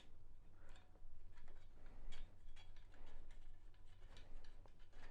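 The stand of a Philips Momentum 3000 27M1N3200VA monitor is screwed into place, giving quiet, close ratcheting clicks and small mechanical ticks in a continuous uneven run, with no one speaking.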